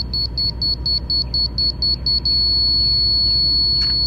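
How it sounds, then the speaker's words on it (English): A laser level receiver pulses a high electronic tone in rapid short beeps, about a dozen in quick succession, then settles into a steady continuous tone. "you hear those really short, quick beeps? That means you're high."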